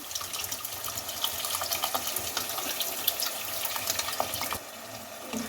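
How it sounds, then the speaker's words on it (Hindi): Water from a glass poured into a pot of dal mash (urad dal) after coriander and cumin are mixed in, a steady broadband splashing that runs about four and a half seconds before dropping to a quiet hiss. "जब धनिया और जीरा को मिक्स करने के बाद इसमें 1 गिलास के करीब पानी डाल दें।"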